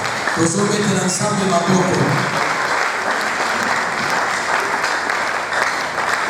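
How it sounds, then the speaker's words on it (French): A church congregation claps together during a French Catholic service, brief voices at the start giving way to sustained, dense applause that fills the room evenly to the end. "On acclame le Seigneur."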